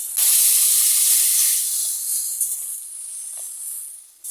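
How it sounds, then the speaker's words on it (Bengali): Hot water poured into a hot pan over cooked taro stems bursts into a loud, close hiss of steam that slowly fades and softens, with a brief clink near the end. "এখন আমি গরম পানি ঢেলে দেব"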